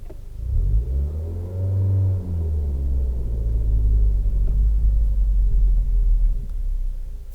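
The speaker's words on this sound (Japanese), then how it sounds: "エンジンがかなりうなっておりましたよね。" Manual-transmission car pulling away with the engine revving hard, a loud sustained low roar whose pitch rises and falls over several seconds, heard close with no talk.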